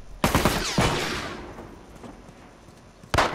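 Two sharp gunshots from an enemy in The Last of Us, each followed by a long echoing decay across an open plaza, then a third shot near the end.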